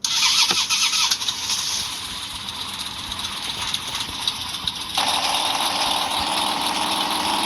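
A motorcycle engine in the Roblox game starts up with a loud crank and catch, then settles into a steady mid-pitched idle that lifts to a stronger, constant drone near the end, with no talking.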